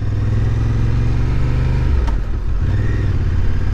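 Honda Hawk 11 motorcycle pulling away from a stop, its engine note rising loudly and close up, with a brief clatter midway before the revs climb again, and no talk.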